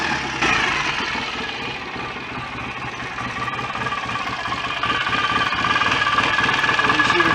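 A rebuilt BSA A65 motorcycle engine idles steadily, close and fairly loud, with a continuous mechanical clatter and a slight rise in level toward the end.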